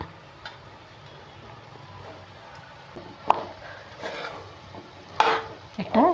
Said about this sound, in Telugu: నిదానంగా కలుపుకోండి, కాలుతూ ఉంటాయి అన్నీ